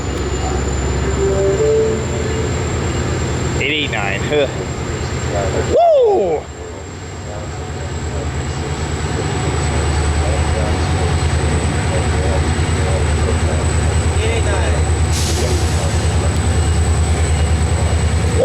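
An eastbound Metra commuter train passes at Fullerton with a loud, continuous rumble and clatter of cars rolling by close at hand. Someone talks and lets out a cheer over it, and a high whistle-like tone rings throughout.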